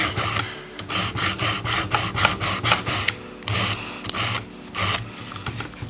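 A nail file rasps back and forth along the edges of an artificial nail capsule in a dozen quick, close, rhythmic strokes, then a few slower separate passes, with no talking.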